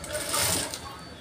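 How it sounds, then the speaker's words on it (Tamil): A sewing machine runs steadily, stitching the folded lining of a blouse in one short continuous burst, close and fairly loud. "இந்த இன்ச்சில் ஒரு தைச்சு"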